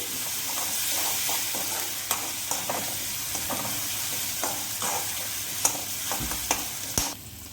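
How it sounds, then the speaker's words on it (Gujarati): Crushed ginger and green chili sauté in oil in a pan, making a steady close sizzle with soft scraping stirs at irregular intervals and a sharper knock near the end, no talking. "તેને પણ આપણે થોડીક વાર સાતળી લઈશું આવી રીતે"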